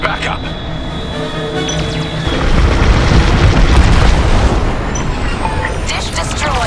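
A dish is blown apart in the Star Wars: Squadrons video game, a loud booming explosion that swells midway and rumbles on under game sounds, with a brief voice line heard faintly in the mix.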